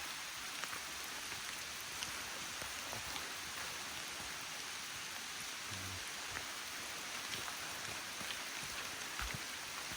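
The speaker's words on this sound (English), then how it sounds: "pouring the rain, pouring." Heavy rain pours down steadily on a forest hiking trail, a dense, even hiss of drops hitting surfaces all around, with a couple of faint thuds and no voices.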